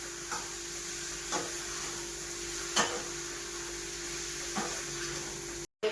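Dal and onion frying in a pan, a quiet steady sizzle with a few soft clicks of stirring, no voices.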